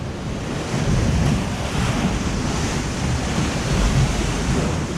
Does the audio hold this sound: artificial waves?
yes